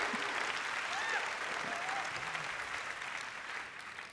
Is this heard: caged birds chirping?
no